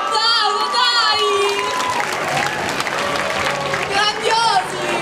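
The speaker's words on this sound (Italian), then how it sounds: "Un applauso, dai!" A lively crowd at an Italian oratory summer-camp final evening claps and cheers, with children's high voices shouting over the applause throughout.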